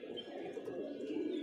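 A male pigeon coos steadily and close by for a moment, a low continuous throaty murmur with faint chirps from other birds around it.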